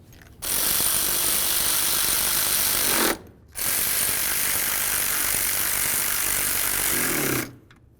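Power tool, likely an impact or ratchet gun, running two long bursts while snugging timing belt component mounting bolts on a 2009-2020 Dodge Journey; loud, steady whirring-rattle, close by, with a short pause between bursts.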